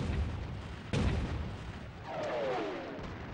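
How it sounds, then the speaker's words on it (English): A WW2 artillery barrage with German 88 flak guns firing: a distant boom, then another heavier thud, under a continuous rumbling backdrop and a faint whistling tone, with no talk. "with a preliminary artillery barrage, followed by a massive tank assault. But the German 88 flak guns cause tremendous losses."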